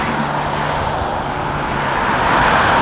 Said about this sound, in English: So the never-ending flow of traffic, where I can't hear myself speak.